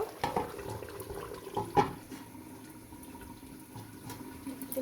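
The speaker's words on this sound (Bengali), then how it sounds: "এখন আমি পানি অ্যাড করে দিলাম।" Water is poured into a pot of duck meat curry, a soft splashing pour with a few quiet bumps, fairly faint and close.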